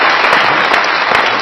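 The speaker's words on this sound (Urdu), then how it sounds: "تالیاں میرے لیے، تالیاں" Steady audience applause from a live comedy talk-show studio crowd, dense and continuous throughout, with no voices over it.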